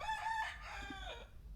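A rooster crows close by, a loud drawn-out cock-a-doodle-doo with a quavering tail that fades out near the end, heard alone.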